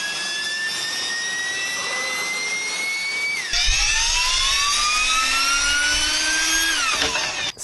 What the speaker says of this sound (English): So we're actually using electric ducted fans, which are used in RC planes, and basically they look like mini jet turbines